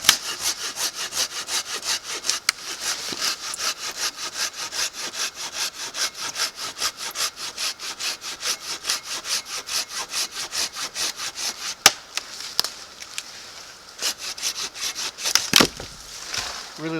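Hand saw cutting through very dry maple firewood at a campsite, with steady rapid back-and-forth strokes, close and loud, continuing for many seconds before a brief pause and a few final strokes.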